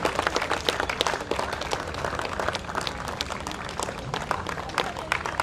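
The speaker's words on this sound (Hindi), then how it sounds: "आप लोगों की ये तालियां जोश देती है मेहनत करने वालों को" Festival audience at a science and culture event applauding, a dense continuous wash of many hands clapping with scattered sharper claps, steady and moderately loud throughout.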